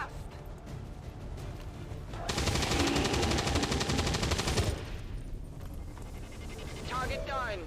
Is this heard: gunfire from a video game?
yes